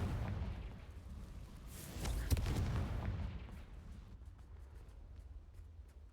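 A Confringo fire spell explodes in Hogwarts Legacy, a deep booming blast that swells around the middle with a sharp crack, then rumbles away into quieter background noise.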